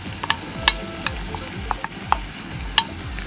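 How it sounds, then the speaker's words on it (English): Raw shrimp hit a hot frying pan for seafood pasta, giving a steady oily sizzle broken by a series of sharp, close spatula clacks and scrapes against the pan, with no talking. "You add the shrimp, you guys."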